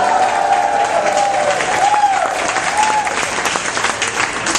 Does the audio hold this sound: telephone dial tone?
no